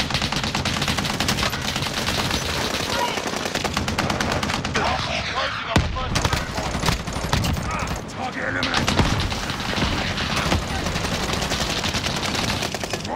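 Dense, continuous gunfire in the video game Call of Duty: Modern Warfare during a payload match, rapid automatic bursts and heavy booms layered with in-game voice callouts throughout.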